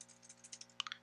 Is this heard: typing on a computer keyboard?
yes